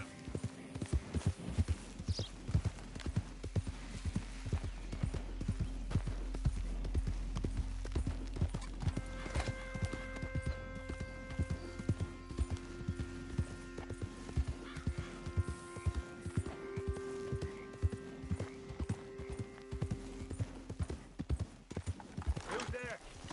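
Horse hooves galloping in a video game, a fast, steady clip-clop rhythm throughout with occasional whinnies and game music tones, while people talk over it.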